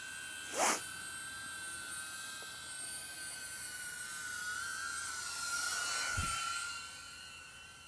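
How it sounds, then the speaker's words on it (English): A DJI drone's motors spin up into a steady high-pitched whine that holds throughout, with a sharp brief rise early on and a swelling surge near the end, heard close by with no talk. "Okay, motor is starting."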